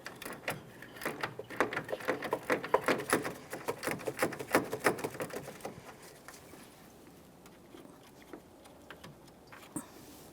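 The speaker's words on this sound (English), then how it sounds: "Let's go ahead and remove that bolt." A 10mm mounting bolt is backed out beside the radiator of a 2010-2013 Kia Forte Koup with a ratchet, giving a fast run of close, sharp clicks that slows, thins out and fades to near quiet in the last few seconds.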